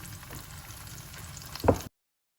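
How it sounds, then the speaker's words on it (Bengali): Tofu lightly frying in a pan, a soft continuous sizzle that swells into a louder, brief crackle near the end before cutting off. "তো টোফুগুলো হালকা একটু ভেজে নিব।"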